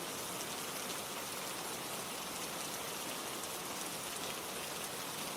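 Rain falling steadily, an even soft hiss of drops with no changes in intensity and no voices.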